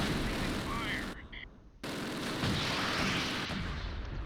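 Mortar rounds and gunfire from the WWII tactical game Close Combat, set at Hill 314 in 1944, crack and boom in dense bursts with a brief lull, under commentary.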